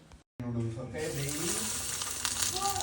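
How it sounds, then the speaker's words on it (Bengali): Battered mushroom pakora dropped into hot oil, a steady bright sizzle and crackle that starts abruptly after a brief pause and continues loudly, with a voice talking over it. "এখন শুধু মাশরুমটা বেসনের মধ্যে ডুবিয়ে গরম তেলের মধ্যে দিয়ে দিতে হবে।"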